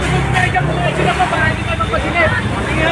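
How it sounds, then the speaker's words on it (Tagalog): Loud, steady street traffic near a fire scene, a continuous roar of passing cars and engines with crowd chatter and voices mixed in throughout. "Malakas naman ulit ng sasakyan."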